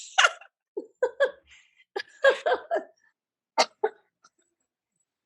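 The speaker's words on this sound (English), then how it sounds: "I love how you keep throwing the sneezes and the coughs in for effect" A person coughing on a podcast, a series of short, close, dry coughs and throat-clearing bursts separated by silence.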